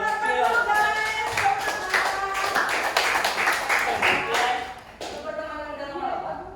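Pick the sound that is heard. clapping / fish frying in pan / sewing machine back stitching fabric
clapping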